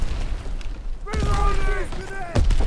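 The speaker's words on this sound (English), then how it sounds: "Throwing grenade!" A grenade thrown in Call of Duty WWII, a burst of boom-like impact noise with a brief tonal whine after it, amid other game sounds and a voice calling out.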